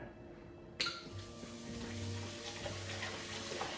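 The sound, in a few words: cream soda poured from bottles into a large bowl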